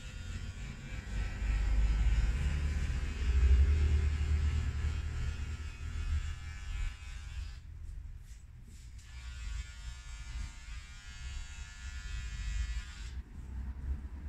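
Electric hair clipper buzzing steadily through a number 3 haircut, a close, loud motor hum that briefly drops and changes tone partway through before resuming, no talking.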